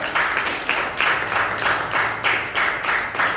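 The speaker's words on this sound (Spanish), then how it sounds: "Denle un aplauso al Señor" Church congregation clapping in unison to a steady, regular beat, about two claps per second, loud and rhythmic throughout.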